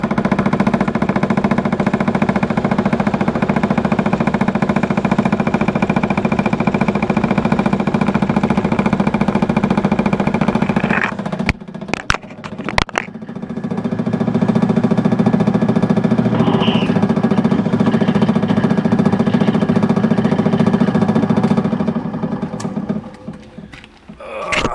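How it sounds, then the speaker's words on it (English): A drill grinds through four stacked back panels in long loud continuous runs, broken midway by a short pause with clattering knocks before boring resumes, then trailing off near the end. "I was drilling this hole through 4 back panels."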